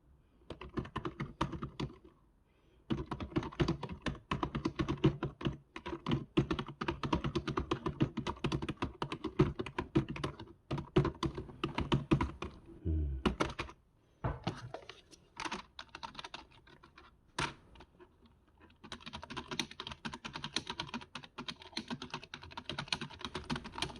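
Typing on a no-brand wireless keyboard with rubbery keys gives dense, rapid runs of soft, close keystrokes broken by short pauses and a few isolated taps.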